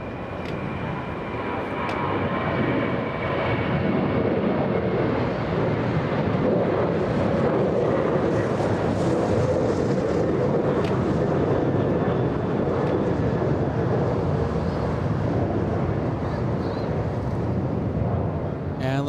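United Airlines flight 1578, an airliner bound for Phoenix, takes off at LAX with a sustained broadband engine roar that swells and holds loud throughout.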